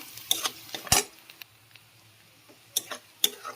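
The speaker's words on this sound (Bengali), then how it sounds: "পেঁয়াজটা একটু লাল লাল করে ভেজে নেবো।" Onion frying in a pan while a spoon stirs it, with light metallic scrapes and clinks against the pan over a faint sizzle, close and fairly quiet.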